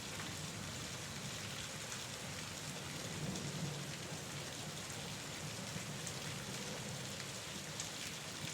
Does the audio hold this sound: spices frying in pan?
no